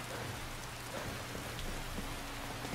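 Steady rain falling in the video game Skyrim, a dense even hiss of drops on surfaces with a low constant hum beneath, continuous and uniform throughout with no voices.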